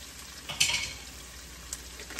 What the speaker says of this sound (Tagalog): Igisa ko muna yung ating atay guys bago ko ibuhos yung kanyang sauce